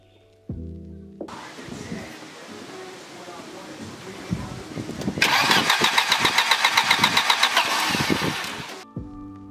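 A Volvo 740 with a no-start fault cranks: a rhythmic, rapid starter churn grows louder and harsher through the second half, then cuts off, with no catch.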